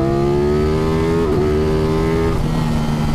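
A 2021 Aprilia Tuono V4 motorcycle engine holds a loud, steady high rev close by, its tone briefly wavering then settling, with a second bike's engine note mixed in.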